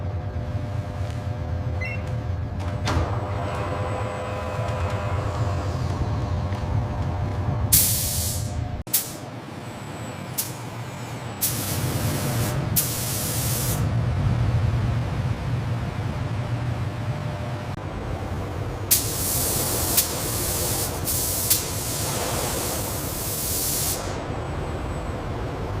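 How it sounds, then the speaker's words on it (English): Robots spraying paint onto car bodies in a luxury car factory give a steady broad hiss that runs throughout, with brighter bursts of spray and a few sharp clicks, loud and continuous. "Paint robots can adjust spray pattern, flow rate, and atomization 100 times per second."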